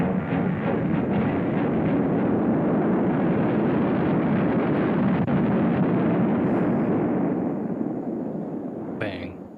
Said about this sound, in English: We shot this thing into space with our space gun